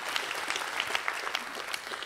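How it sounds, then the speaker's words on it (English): Applause from a church congregation during a sermon, a short burst of scattered clapping from a moderate crowd, somewhat distant and even in level. "let's applaud for good and long marriages"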